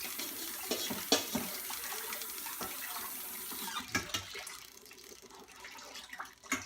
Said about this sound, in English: let me grab some cold water